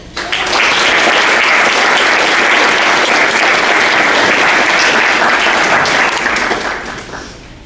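A lecture audience applauds to welcome a speaker: loud, dense clapping from a crowd, sustained for about six seconds before tapering off.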